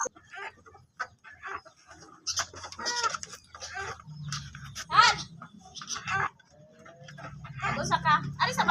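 Chickens cluck and squawk in short, irregular bursts close by, with a person talking in between the calls.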